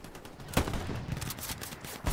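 Gunfire in the World War II shooter Hell Let Loose, with rapid, loud bursts of machine-gun and rifle fire snapping close by in a dense, continuous volley.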